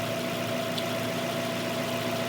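Mazda Miata engine idling at around 850 rpm, a steady, even, quiet hum with a constant pitch and no voices.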